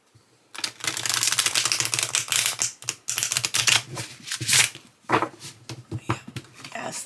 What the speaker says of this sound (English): now we're going to see how these cards shuffle